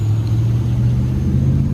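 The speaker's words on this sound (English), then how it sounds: "A lot of traffic and stuff." Road traffic near a grocery store parking lot in a small town, a steady low rumble of passing vehicles without clear individual pass-bys.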